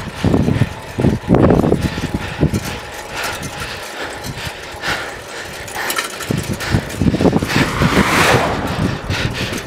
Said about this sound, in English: here's a car coming